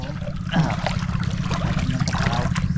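Water current flowing through a flooded area: a continuous rushing trickle over a low, rumbling drone, moderately close.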